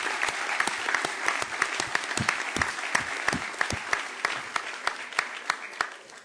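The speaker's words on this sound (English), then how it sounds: "Give them a round of applause." Students clap at a back-to-school event honoring perfect attendance, a modest crowd producing a sustained patter of individual hand claps that stays fairly even and thins slightly near the end.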